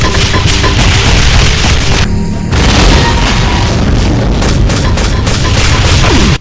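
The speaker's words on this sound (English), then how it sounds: "It fires dual volleys of legendary grenades," The Annihilator Cyberdemon in a Doom mod fires dual volleys of grenades, producing dense continuous booms and explosions layered with rapid gunfire, loud and relentless throughout with only a brief dip.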